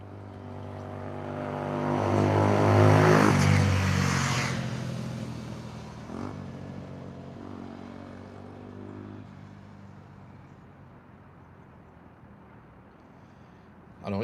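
A motorbike passes by: its engine drone swells to a peak in the first few seconds, then slowly fades into the distance, with no one talking.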